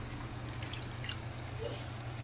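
Water poured into a pot of fish stew made with angel shark, a soft, quiet trickle over a steady low kitchen hum.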